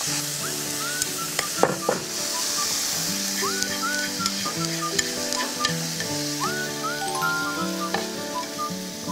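Pork neck sizzles in a soy sauce glaze in a hot frying pan, giving a constant close crackle and hiss with occasional stirring scrapes and brief tonal squeals over the sustained frying.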